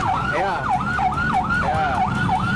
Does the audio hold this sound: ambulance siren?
yes